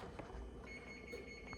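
An oven that has finished preheating to 400 gives a thin, steady electronic beep, faint over quiet kitchen background noise.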